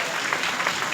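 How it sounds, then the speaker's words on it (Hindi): An audience at a student guidance and honouring event in India claps continuously, a dense, loud, even patter of applause. "तालियां हो जाए"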